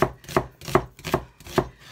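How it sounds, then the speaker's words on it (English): A knife slices through an onion on a cutting board with five evenly spaced, crisp close strokes, each a sharp thunk with a short crunch, steady rhythm, no talking. "our onion, you just want to slice it roughly"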